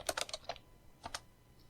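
Short flurry of close, crisp computer keyboard taps while writing R code, with about five quick keystrokes, a brief pause, then two more clicks in a quiet room.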